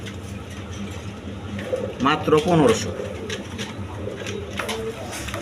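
Danish pigeons kept for sale, including a pair and a single female, give one short burst of throaty cooing near the middle while someone talks over a noisy background.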